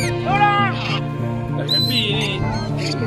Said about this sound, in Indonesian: Banyak burung hari ini.